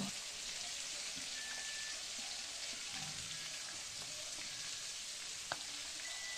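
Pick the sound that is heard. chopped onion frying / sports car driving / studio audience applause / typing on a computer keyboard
chopped onion frying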